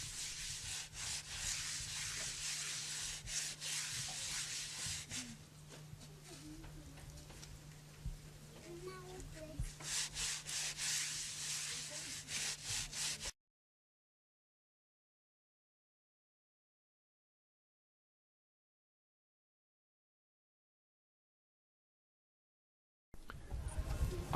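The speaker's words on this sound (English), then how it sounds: "smoothing the exterior of the jar with wet clay and burnishing it with a string of seeds from a baobab tree" A string of baobab seeds rubs steadily against a clay jar as it is burnished, a close scraping and rasping that runs for several seconds and then cuts to silence.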